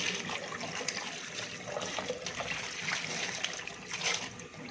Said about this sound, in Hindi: ऊपर से इनके ऊपर साफ़ पानी को हम डालेंगे